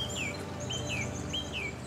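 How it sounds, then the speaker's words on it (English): Morning birdsong from song thrushes, blackbirds and robins carries outdoors, with repeated clear descending whistled calls at moderate distance over a low, steady ambient hum. "So birds like the song thrush, blackbird, robin, they're the ones we've been hearing this morning."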